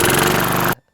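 A riding lawn mower's small engine, just repaired at the fuel solenoid, roars loudly and steadily from close by for under a second, then cuts off abruptly into silence.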